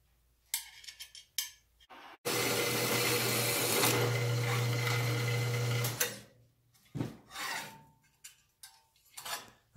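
A power saw cuts a piece shorter in a home machine shop, a loud steady whine lasting about four seconds, framed by scattered clanks and handling knocks before and after.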